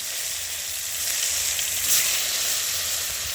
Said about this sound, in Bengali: বন্ধুরা দেখো, মাছগুলো আমি তেলের উপর দিচ্ছি।